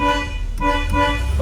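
Horn of a 1972 Chevrolet Chevelle SS with a matching 402 V8, sounding one steady, loud, close toot that holds for the whole moment with no talk over it.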